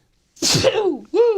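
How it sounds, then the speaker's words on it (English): A single sharp sneeze bursts close to the microphone in a radio talk-show studio, followed a moment later by a short voiced sound. "I couldn't even hit my sneeze mic."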